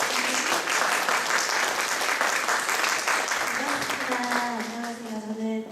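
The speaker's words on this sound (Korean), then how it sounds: "한 분씩 나오실 때 큰 박수로 환영해 주시기 바랍니다." Sustained applause from a seated audience of teachers at a school seminar, dense steady clapping filling the room before tapering slightly, with a voice briefly speaking over the end.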